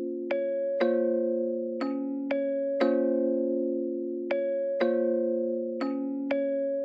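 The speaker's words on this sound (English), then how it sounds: "here's the pattern I made with it. Very simple, so I'm gonna play it first without any effects" A simple dark synth chord pattern played dry in FL Studio, with sharp bell-like chord stabs repeating in an even, spaced rhythm, each ringing out and decaying before the next.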